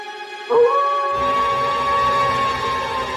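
A dog lets out a long, sustained howl that rises and holds a steady pitch, loud and close, with a brief yelp at the start.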